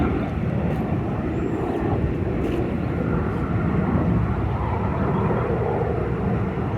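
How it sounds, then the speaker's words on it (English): A pair of F-18 Hornet jets pass overhead near an aviation museum at Pearl Harbor, producing a broad, steady roar that holds evenly throughout, loud but distant, with no talking. "F-18 Hornet. Hornet. There's two of them going by."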